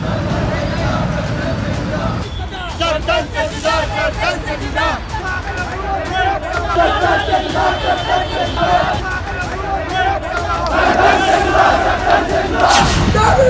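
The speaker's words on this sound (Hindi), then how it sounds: "सड़कों पर भीड़ साथ लेकर भड़काऊ नारे लगाते ये लोग कौन हैं?" Street crowd chanting provocative slogans, a dense mass of many voices shouting in rhythmic bursts, loud and close, with general hubbub and babble underneath throughout.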